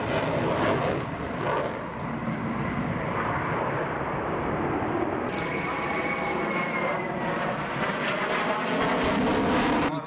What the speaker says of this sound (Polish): Co prawda ta maszyna nie obraca się tak szybko jak znacznie lżejsze samoloty akrobacyjne